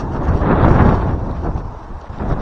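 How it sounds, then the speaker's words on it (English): Loud, rumbling wind buffets the microphone in continuous gusts beside a canal in Birmingham, swelling and easing with no other sounds. "it is quite windy today"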